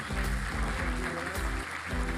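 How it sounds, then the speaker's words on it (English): Audience applause greets a guest on stage at a Salesforce investor and analyst session at Dreamforce, a broad wash of clapping mixed with a thumping musical beat underneath. "Luis, please give him a big round of applause."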